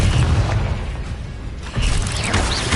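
Confringo fire spell blast in the video game Hogwarts Legacy: loud, close burst with mechanical clatter, dipping briefly before a second strong boom swells back up amid ongoing combat noise.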